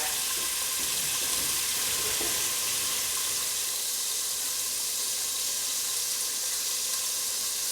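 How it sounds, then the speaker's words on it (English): Broccoli, chard and kale stir frying in a frying pan, a continuous dense sizzle and hiss at steady loudness, close up with no talking. "As you can hear it stir frying up,"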